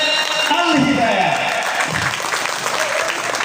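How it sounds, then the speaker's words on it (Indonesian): Applause for the first graduating class at an Islamic boarding school ceremony: a full, sustained clapping from a crowd that fills the room, with a voice talking over it. "kasih tepuk tangan dulu untuk lulusan Al-Miftah Ulum Angkatan Pertama"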